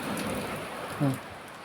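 Steady rain pattering continuously, with a faint brief voice-like sound near the end.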